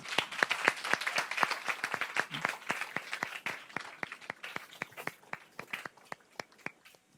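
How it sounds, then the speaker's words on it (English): Applause from an audience for a panel at a women's history event: fairly dense clapping at first that thins out to a few scattered, distinct claps before stopping. "Let's give them all a round of applause."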